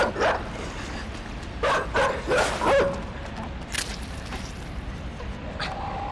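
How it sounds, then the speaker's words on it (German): A dog barks in the side-scrolling game Inside: a handful of sharp, separate barks and yips spread over several seconds against a faint, hissy background. "Der Hund!"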